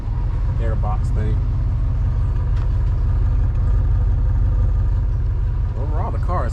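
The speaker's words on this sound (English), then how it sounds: "You can hear the little misfire because of that air box thing." A 1996 Cadillac Seville idles steadily with a slight misfire from an air box problem, a constant low engine rumble up close, with brief talk over it at the start and end.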